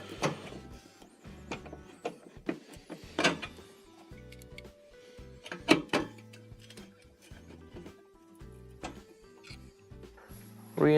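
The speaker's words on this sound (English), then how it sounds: "Reinstall your 2 screws that hold it into the bracket." Two screws driven back into the bracket of a Samsung radiant-element stove, heard as close, quiet mechanical whirring and ratcheting from a screwdriver with clicks and taps of metal, running in short bursts.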